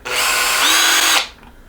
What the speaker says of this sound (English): I'm going to drill a hole in line with the handle